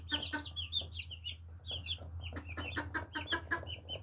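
Japanese bantam and Silkie chicks cluck and peep in quick, irregular bursts, close by and fairly faint, over a steady low hum, with no talking.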